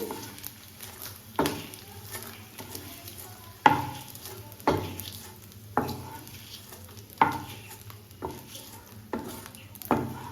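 Edible gum (gond) roasting on low heat in a pan, with a spoon scraping and stirring in repeated strokes over a faint, steady sizzle and occasional sharper clinks against the metal.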